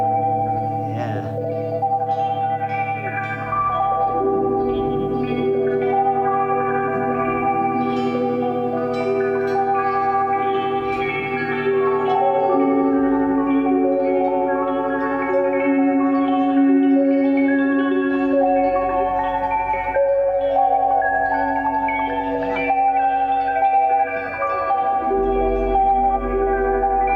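Guitar notes fed fully wet through modular synth effects, dense with echo, chorus and reverb that smear into a continuous shimmering, distorted wash for the whole stretch, with no dry guitar and no talking.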